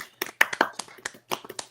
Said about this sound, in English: Real quick, clap it up for Dobes tonight, everybody.